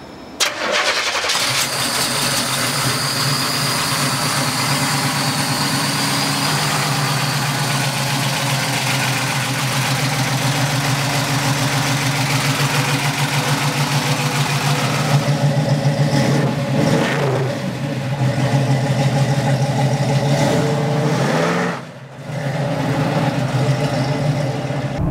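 A 1971 Chevrolet Nova engine cranks over and catches, then runs steadily at a close, loud idle with rising revs throughout and a brief dip near the end.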